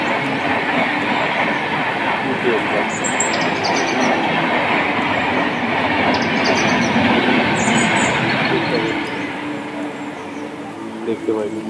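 A train rolls past the Baruipara railway level crossing on a road trip toward North Bengal, a steady loud rumble of wheels and carriages close by with traffic noise mixed in, fading slightly near the end.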